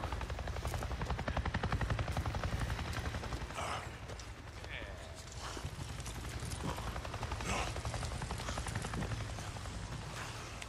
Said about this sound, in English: Goddamn chopper!